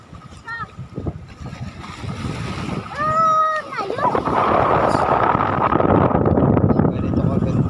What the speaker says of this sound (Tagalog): Malakas guys ang alon.